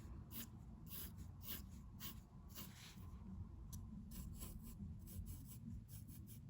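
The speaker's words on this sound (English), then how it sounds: "I'm drawing the lines on the cone a little curvy, because they're going to go crisscross." A pencil or pen rasps softly across paper while drawing the curved crisscross lines of an ice cream cone, repeated close scratchy strokes in a steady rhythm, faint and without talk.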